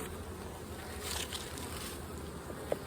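Honey bees buzz steadily around an open hive during an inspection, a dense continuous drone close by, with one small click near the end.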